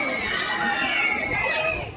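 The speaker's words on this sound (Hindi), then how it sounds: "ये कितना भीड़ है, लोग चला रहे हैं," A dense crowd of visitors chatters and calls out continuously at the busy Maa Tara Tarini temple, with children among the many overlapping voices.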